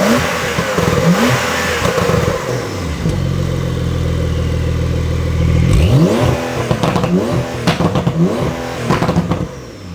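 A Porsche 992.1 with a stage 1 APR tune and a Kies valve controller on the exhaust revs hard: repeated sharp throttle blips, a sustained high-rpm hold, then more quick rising-and-falling revs, loud and close.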